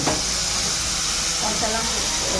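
Onions fry in a hot pan in a home kitchen, giving a steady, close sizzle and hiss that runs without a break.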